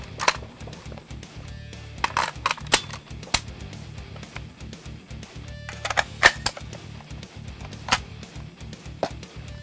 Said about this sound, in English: Here our hosts show us the incredible firepower the Negev light machine guns bring to a fight.